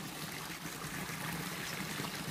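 Small garden waterfall cascading beside a tilapia fish pond, a faint, continuous hiss of trickling, splashing water heard from a distance without any voices.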